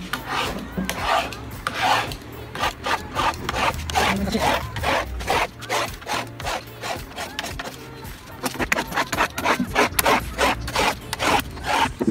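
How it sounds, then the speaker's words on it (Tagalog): Cutter blade scratching across a melamine surface to rough it up for contact cement, a steady run of rapid rasping strokes close up with no talk. "gagasgasan muna natin ng cutter para yung adhesive natin, contact cement, mas makapit siya"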